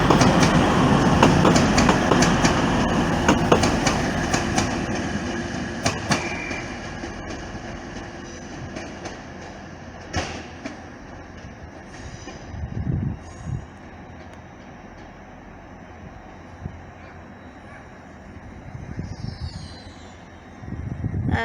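A Class 185 train at York station on the East Coast Main Line rumbles past loudly at first, then fades, leaving intermittent clicks and squeals of wheels on rails at a distance.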